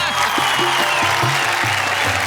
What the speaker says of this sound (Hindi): भाई तालियां क्या तारीफ की है जरा